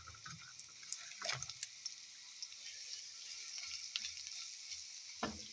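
Sliced eggplant half-frying in oil in a pan, a faint steady sizzle with small crackles and a few sharp pops, no voices.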